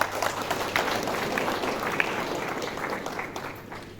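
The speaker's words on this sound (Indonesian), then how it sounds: "Berikan aplaus yang meriah" Steady applause from a crowd at a village heads' inauguration ceremony in Puncak Regency, dense sustained clapping filling the whole stretch and fading slightly toward the end.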